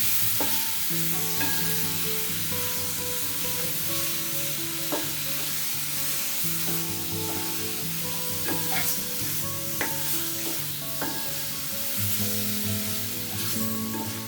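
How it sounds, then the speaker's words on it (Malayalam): Cashew chicken curry being stirred in a pan gives a continuous sizzle with repeated scraping and clinking of the spoon, close and steady, with no talk. "അത് നമ്മൾ നല്ല മിക്സ് ചെയ്യാം."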